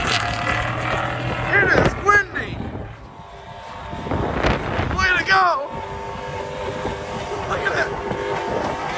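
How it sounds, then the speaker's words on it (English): Gusty wind roars across the microphone outdoors, rising and falling in rough bursts, mixed with a revving truck engine and voices talking over it. "It is windy."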